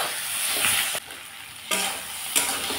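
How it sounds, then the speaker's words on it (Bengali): Eggplant and potato stir-frying with tomato in a pan, a steady loud sizzle with spatula stirring, broken by short pauses and quieter gaps, no talking. "টমেটোর সাথে কষিয়ে দিই।"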